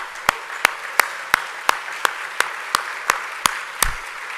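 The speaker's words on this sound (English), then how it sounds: "Please give them a round of applause." A round of applause from the audience at a public policy competition event, heard as slow, evenly spaced single claps, about ten in a row at a steady beat.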